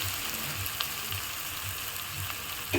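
Chopped onions frying in a pan for a homestyle tarka, a steady low sizzle with a few faint scraping stirs, close and continuous with no talking.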